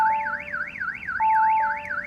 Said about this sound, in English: So if we activate the alarm system